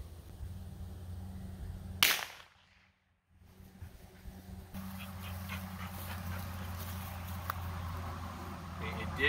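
A single sharp gunshot cracks out at close range against a wooden battlebot armor test piece, then brief quiet before low background noise and voices return.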